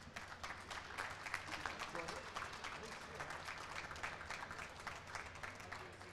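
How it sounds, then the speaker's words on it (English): A crowd at an awards banquet gives sustained applause, a dense, even patter of clapping that holds steady at moderate volume throughout. "And taking it home this year, a big round of applause to Troy Butts."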